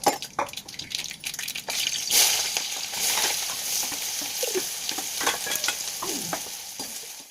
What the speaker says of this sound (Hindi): थोड़ा सा पचफोरन डाल देता और उसके बाद इसमें डलेगा प्याज।